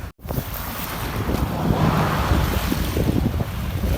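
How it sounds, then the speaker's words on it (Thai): Floodwater beside a construction site washes and sloshes continuously like surf against a shore, mixed with strong, cold wind noise, after a brief silent gap at the start. "นี้คลื่น น้ำนะครับ"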